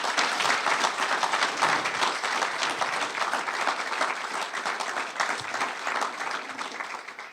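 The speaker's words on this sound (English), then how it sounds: "Let's give them a round of applause for their work." An audience at a county budget presentation applauds steadily and loudly, a dense continuous clapping that holds for the whole stretch without letting up.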